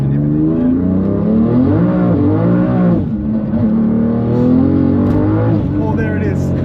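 A 1000HP BMW M3 build, G80 generation, revs and accelerates hard with a loud, rising engine roar and gear changes, heard up close from inside, with people talking over it.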